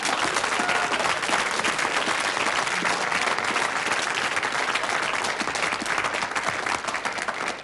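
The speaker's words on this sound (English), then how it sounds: "Lots of applause." A large television game show studio audience applauds loudly and steadily, a dense, even wash of clapping from many hands that holds the whole time and thins slightly at the very end.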